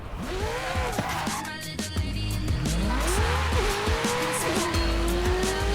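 A race car in the Forza Horizon 5 video game, its engine revving loud and close through shifts with tire squeals and skids over a constant driving roar, while someone talks at times over it.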